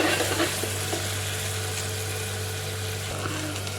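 Ground masala paste sautéing in oil in a pan for a green chickpea curry, giving a steady close sizzle and frying hiss with light stirring scrapes and a constant low hum underneath.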